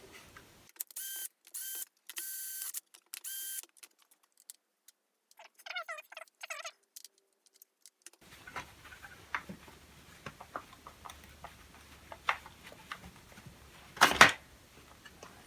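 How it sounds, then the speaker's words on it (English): Screws being undone from the plastic clamshell casing of a Qualcast hedge trimmer: short bursts of squeaky ratcheting and clicking with pauses between, then near handling clatter and knocks of loose parts, quiet and close with no talk. "that involves taking off these 6 screws"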